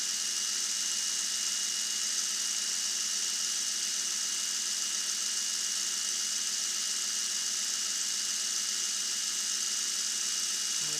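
A homemade Lime hand shaper runs with a dovetail cutter, giving a steady, even mechanical hum with a high whine, constant and close throughout with no talking.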